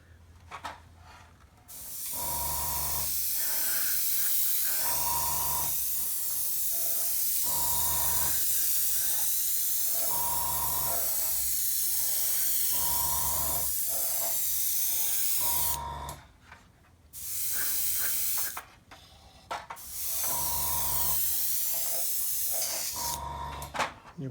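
Airbrush or spray gun laying a quick coat of paint onto a large-scale model kit, a steady hiss in repeated bursts of a few seconds each with short pauses between, close and fairly loud.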